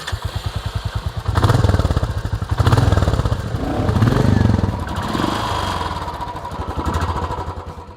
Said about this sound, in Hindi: नई क्लासिक की मोटर में हल्की सी वो आवाज़ महसूस होती है, और इसका एग्जॉस्ट नोट ज़्यादा बेसी है